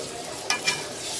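Banana pieces for Makassar-style pisang peppe sizzle while frying in oil. A continuous bright crackling hiss holds steady, with a couple of small pops partway through.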